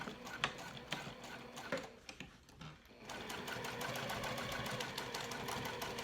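Stitching a crossbody bag: after a few sharp clicks and fabric handling, the sewing machine starts up and runs steadily, its rapid needle ticking and motor whir continuing loud and close to the end.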